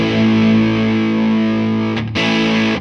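Electric guitar through a Seymour Duncan Palladium gain stage overdrive pedal: a sustained, thick distorted chord rings loud, then briefly cuts out near the end before a fresh strum hits, with no talking.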